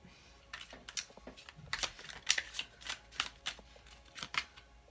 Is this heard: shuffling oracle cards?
yes